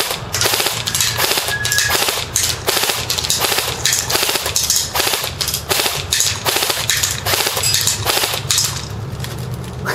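A tan TSD SRC airsoft M4 rifle fires BBs on full auto in rapid, repeated bursts of sharp mechanical cracks, close and loud throughout.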